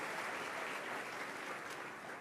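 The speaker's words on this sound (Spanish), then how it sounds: "dele fuerte su aplauso al Rey" Faint, steady audience applause inside a church, a soft continuous wash of clapping heard at a distance with no voices over it.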